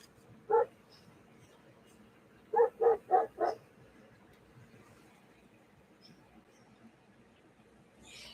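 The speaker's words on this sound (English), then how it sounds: "he barks at the horses too" A guard dog barks once, then lets out a quick burst of four barks a few seconds later, at moderate distance over quiet background hiss.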